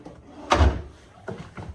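Hotel room drawers slide open and shut, one fuller thump near the start followed by two lighter wooden knocks close together, nearby and without talk.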